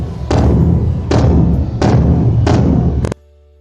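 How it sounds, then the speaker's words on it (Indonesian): A large bedug drum is struck five times at an even, unhurried pace, each hit a deep, booming thud that rings briefly. "bunyi beduk"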